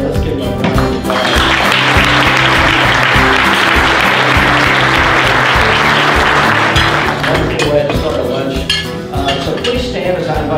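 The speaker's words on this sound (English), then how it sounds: "Let's give them a round of applause." Applause from an audience at a Kiwanis Club meeting, thanking student performers, sustained and loud for about seven seconds over music-like tones, then tapering into scattered clinks and taps.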